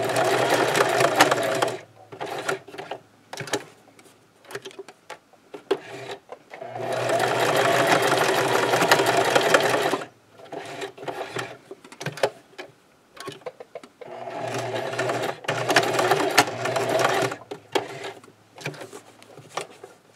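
A home sewing machine runs a straight stitch back and forth through two layers of fabric for a scrub cap, with rapid whirring bursts broken by short pauses and quiet handling clicks.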